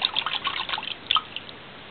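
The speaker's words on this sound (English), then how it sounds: "This is warm water." Warm water drips and splashes in small irregular bursts during a hand bath for a pet rabbit, close and fairly quiet with no voices.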